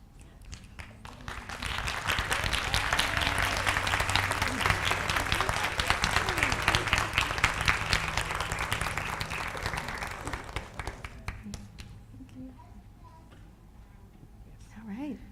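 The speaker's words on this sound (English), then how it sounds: "Please, another round of applause for Dr. Treva Lindsey." After a university lecture, the audience breaks into a long round of applause that builds, peaks, and fades out, followed by quieter room sounds and a voice at the end.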